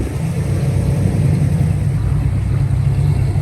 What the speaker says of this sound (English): Check them Mustangs coming out, y'all.